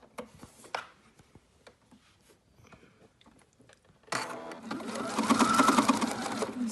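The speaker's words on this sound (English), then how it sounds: "I'm going to sew that down." A sewing machine stitches down a thumb hole cuff seam, starting after a few seconds of quiet handling and then whirring loudly and steadily up close.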